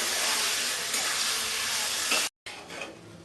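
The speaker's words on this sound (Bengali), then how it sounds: "এইভাবে আমি কষতে থাকবো" Bengali-style kababi chicken sizzles loudly in a hot pan with potato and carrot as it is stirred and scraped, a steady close hiss that cuts out for a moment and then resumes more softly.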